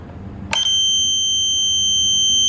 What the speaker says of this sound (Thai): เพราะมีเสียงบัสเซอร์นะครับ